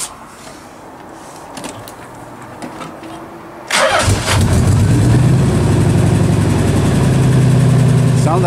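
Nissan Z car engine cranking and catching after a quiet stretch, then settling into a loud, rough, uneven idle with a lumpy misfiring beat close by.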